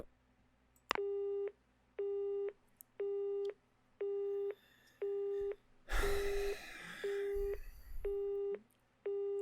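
A telephone busy signal repeats in steady, evenly spaced beeps after a call is cut off in a visual novel game, with a brief burst of noise partway through.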